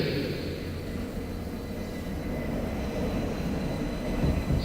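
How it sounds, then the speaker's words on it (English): A New York subway F local train bound for Coney Island–Stillwell Avenue runs with a steady, dense low rumble and hiss, fairly loud and unbroken throughout, without voices. "This is a Coney Island, Stillwell Avenue bound F local train."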